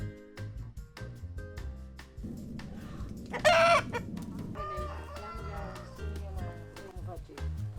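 Chickens cluck and a rooster crows briefly midway, close by, over low background noise and occasional talk.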